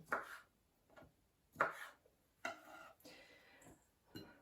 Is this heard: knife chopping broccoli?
yes